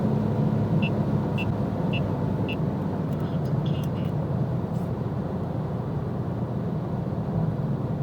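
A 700-horsepower MK5 Toyota Supra accelerates hard from inside the cabin, a steady loud engine and road roar with a few faint sharp ticks and chirps as traction control cuts in.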